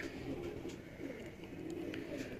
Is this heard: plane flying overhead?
no